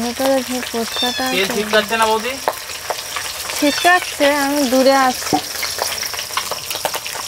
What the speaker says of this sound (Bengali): ভাজার সময় থালা চাপা দিয়ে ভাজবেন নাহলে গায়ে তেল ছিটকে পড়বে